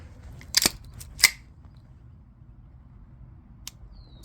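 A Colt 1991A1 .45 ACP 1911 pistol being dry-fired, giving a few sharp, close metallic clicks of the trigger breaking and resetting, spaced apart over quiet background hum.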